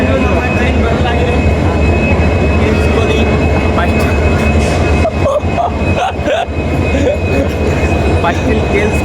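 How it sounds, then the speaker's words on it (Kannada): A train pulls into a station with a loud, continuous rumble and rolling rail noise, joined by a sustained high whine and a few sharp clanks partway through, while voices talk over it. "ಇಂದು ನಮ್ಮ ಟ್ರೈನ್ ಬರಲಾಗಿದೆ"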